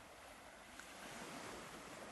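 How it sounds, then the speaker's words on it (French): Gentle ocean waves wash across the bay of Mont-Saint-Michel as a steady, even rush of surf, faint and continuous, mixed with some wind noise. "Il y a parfois quelques vagues qui viennent tranquillement toucher votre dos, vos bassins."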